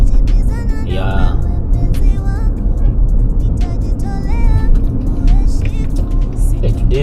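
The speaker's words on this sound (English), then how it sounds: "There are very many on the road." Heavy road traffic with many trucks and cars on a busy highway near Nairobi, a steady loud rumble of engines and passing vehicles throughout, with a person talking over it.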